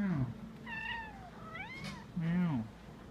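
A cat meows several times up close, drawn-out rising and falling cries with one louder, deeper yowl near the end.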